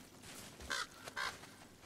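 A crow in the video game God of War caws twice in a row, two clear calls a half second apart, standing out over quiet ambient game sound.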